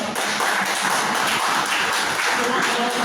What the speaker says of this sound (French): Applaudissez aussi là